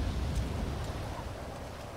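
Steady rain in a racing video game hisses evenly, a dense wash of noise with a low rumble underneath, fading slightly toward the end.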